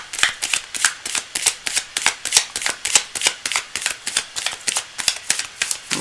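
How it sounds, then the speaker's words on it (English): Tarot cards shuffled by hand in quick, steady riffling bursts, close and fairly loud, repeating at a regular rhythm of roughly three per second with no talking. "I'm just doing a little shuffle"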